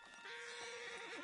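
A horse neighs in Red Dead Redemption 2, a high wavering whinny lasting about a second over a hiss of game background noise.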